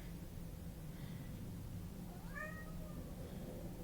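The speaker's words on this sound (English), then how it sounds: "There goes my cat." A domestic cat meows faintly from nearby, two short calls over a steady low room hum, the second a little longer and rising.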